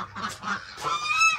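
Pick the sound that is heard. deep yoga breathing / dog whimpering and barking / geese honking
geese honking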